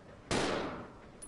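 A single shotgun blast fired at a plant boss in Resident Evil 0 gives a sharp, loud crack that decays over about half a second, followed by a faint metallic ring.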